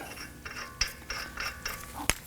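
A ratchet works on the front axle nut of a 2018-2024 Toyota Camry, giving a series of short metallic clicking bursts at an irregular pace with a sharp clank near the end, close and alone in a quiet shop.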